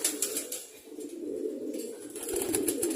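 Pigeons kept in a home loft during winter cooing, soft low throaty coos repeating under a hissy background with brief flutters, fairly faint and close.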